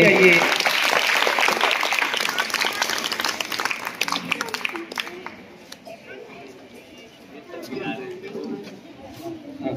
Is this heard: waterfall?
no